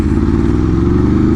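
A 2026 Aprilia RSV4 motorcycle being ridden, its engine a loud, close, steady low throb with a rapid pulsing beat and no voices.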